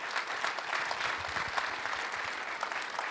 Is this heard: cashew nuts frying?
no